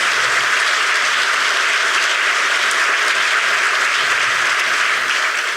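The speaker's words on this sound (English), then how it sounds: "Let's give them a round of applause" Guests at an annual club dinner applaud, a loud, even wash of clapping that holds steady throughout.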